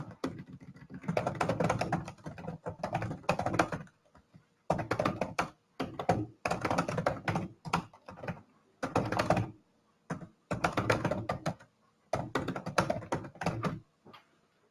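Computer keyboard typing in bursts of rapid clicking keystrokes separated by short pauses, close and moderately loud with no talking.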